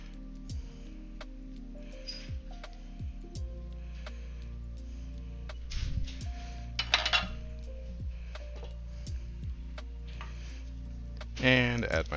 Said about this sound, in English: I'm just gonna ditch my spatula and ditch the whisk.